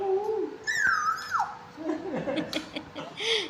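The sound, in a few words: child imitating a koel call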